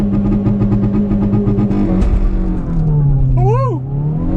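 A 2022 Hyundai i20N hot hatchback launches from a standstill at full throttle, its engine loud and close as it revs, bogs briefly, then pulls hard through rising tones, with a voice shouting over it near the end.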